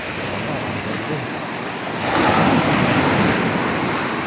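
Ocean surf washes steadily onto a long beach shore, a continuous broadband rush that swells louder about halfway through as a wave breaks nearer, with some wind buffeting the microphone.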